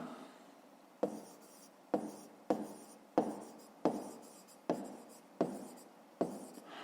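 Pen or pencil writing by hand on paper, heard as eight short, evenly spaced scratchy strokes, each a crisp onset trailing off, close and fairly quiet with no talk over it.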